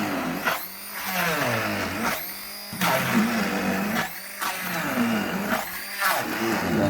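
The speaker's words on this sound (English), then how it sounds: "That is why I cut it first with knife so that the machine can be able to blend it properly." Electric blender chopping cut tomatoes for a stew, whirring in repeated bursts about every one and a half seconds, each with a rising then falling pitch sweep, loud and close with no talk.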